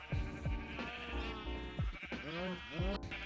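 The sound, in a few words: sheep bleating in the video game Minecraft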